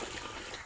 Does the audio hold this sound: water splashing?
yes